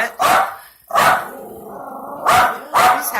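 A small dog lets out loud, close barks, with a low, rumbling growl held between them in the middle and no voices over it.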